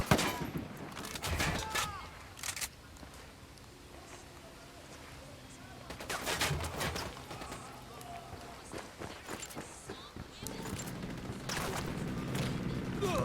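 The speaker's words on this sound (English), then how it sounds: "Opening fire on these fuckers." Scattered gunshots and bursts of fire in the Ghost Recon Wildlands shooter, coming in clusters with quieter gaps between, mixed with movement and footsteps and with voices talking over parts of it.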